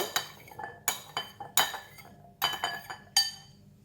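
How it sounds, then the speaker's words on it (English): Chickpeas poured into a mixing bowl for a spicy chickpea salad, making a handful of sharp, clattering bursts about a second apart, close and moderately quiet, with no voices. "I'm going to put in all the chickpea into the mixing bowl"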